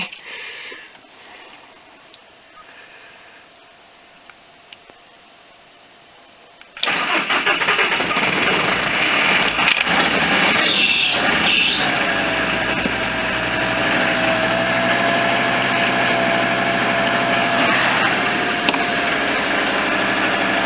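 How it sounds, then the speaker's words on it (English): A car engine cranks and catches about seven seconds in, then settles into a loud, steady idle as it warms up, after a quiet stretch of faint background sound; no talking. "Let's warm up engine and"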